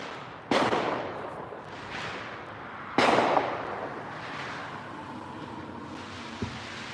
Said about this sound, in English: I'm hearing some more fireworks,